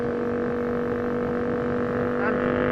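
An Aprilia RSV 1000 R Factory motorcycle's engine holds a steady, droning hum at constant revs, fairly close and loud for a couple of seconds.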